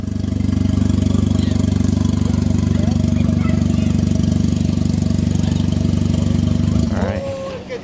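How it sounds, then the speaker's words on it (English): A turbocharged Audi S3 idles loud and steady at a street-night drag racing event, a dense low rumble holding for about seven seconds before the engine is switched off and the sound drops away. "Oh, you're gonna want to kill the engine."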